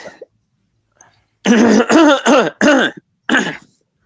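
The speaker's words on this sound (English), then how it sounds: "It's just clearing my throat." Several harsh throat-clearing bursts in quick succession, close and loud, after a brief quiet start with a faint sound or two.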